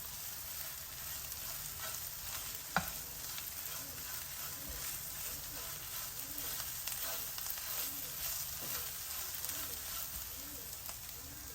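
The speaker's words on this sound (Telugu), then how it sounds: "ఇప్పుడు ధనియాల పౌడర్ వేస్తున్నాను కొద్దిగా ఈ ధనియాల పౌడర్ కొద్దిగా ఈ ఆయిల్లో వేగంగానే టమాటో ప్యూరీ వేసేద్దాం" Tomato puree sizzling in oil with fried onion paste and coriander powder for an egg masala curry: a steady, close frying hiss with faint stirring clicks and one sharp tap, no talk.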